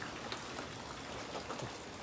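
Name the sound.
heavy rain falling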